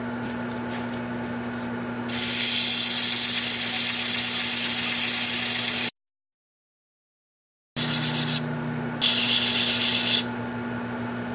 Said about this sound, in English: So I'll do this hand sanding with the each grit that I go through.